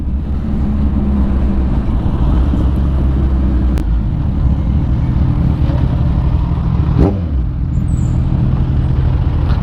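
A Kawasaki Ninja 1000 motorcycle rides along Sumulong Highway, its engine a steady loud drone mixed with heavy wind buffeting, with a brief passing swell near the end.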